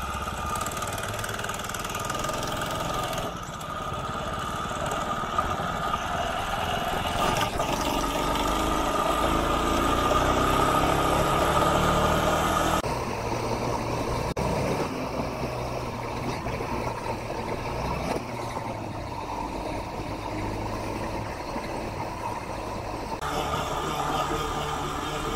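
A small 4-stroke engine on a motorized bicycle runs steadily through a ride, a loud continuous drone that swells and eases with throttle and wind noise, with no speech.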